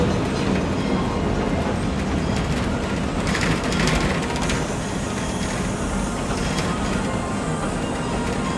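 A train ride at Six Flags Fiesta Texas amusement park rumbles along steadily with a low, continuous clatter and rolling roar, with brief louder rattles midway and no talking.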